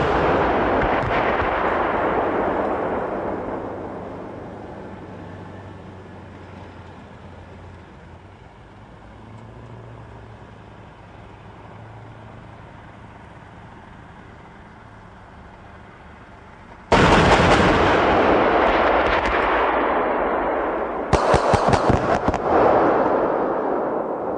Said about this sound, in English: two minibus targets engaged from a moving combat vehicle using high-explosive tracer rounds in four-round salvos